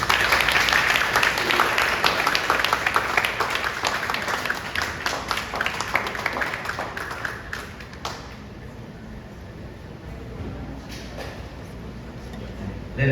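A hall audience at a Frankfurt Book Fair event applauds a senator, the clapping loud and dense at first, then thinning and fading after about eight seconds to scattered claps over a quiet room.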